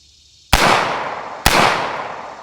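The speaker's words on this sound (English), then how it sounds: "I'm gonna put 2 rounds downrange unsuppressed." Two loud, close unsuppressed shots from a GHM9 pistol fired outdoors in the morning, each a sharp broadband crack about a second apart with a long rolling echo trailing after it.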